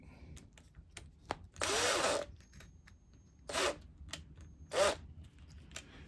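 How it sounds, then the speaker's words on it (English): Three short bursts of a DeWalt power drill whirring as it drives a screw, separated by quiet gaps with faint clicks and handling noise, close by. "I'm going to screw this down till it just sticks out"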